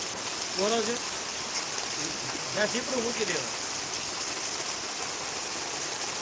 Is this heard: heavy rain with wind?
yes